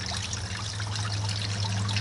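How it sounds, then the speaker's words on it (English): Water pumped through a hose to flush a Yamaha outboard motor, a steady close trickling and gushing flow with a low constant pump hum underneath, continuous and unbroken. "this is the hose down from the pump. It's pumping water up through."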